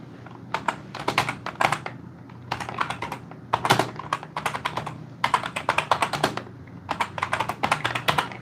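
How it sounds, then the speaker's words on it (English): Rapid keystrokes on a computer keyboard come in bursts of quick clicking with short pauses between, fairly close and steady, with no talking over them. "I'm sorry for the typing"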